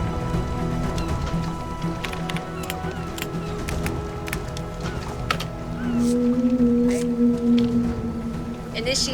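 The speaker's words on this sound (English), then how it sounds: "This is the mating call of the large male humpback whale." A generator plays back a large male humpback whale's mating call: a long tonal moan swells in near the end over a low mechanical hum, with scattered knocks and clatter.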